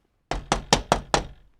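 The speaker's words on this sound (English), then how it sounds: "A policeman knocked on the door." A door is knocked on five times in a quick, evenly spaced series, each knock a firm, close wooden rap with no talk over it.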